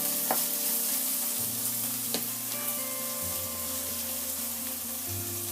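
Onions frying in a pan for bhindi masala give a quiet, steady sizzle with occasional stirring scrapes and clinks, accompanied by a low, even tonal hum in the background.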